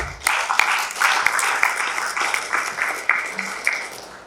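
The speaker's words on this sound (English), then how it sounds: "let us welcome him with a big round of applause" An audience at a startup pitchfest applauds to welcome a jury member, steady clapping of moderate loudness with distinct individual claps standing out, lasting several seconds.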